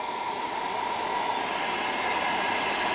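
Steady, loud broadband rush of a dryer blowing air across a plastic front bar on a Nissan Skyline R33 GTST, an unbroken hiss with no voices.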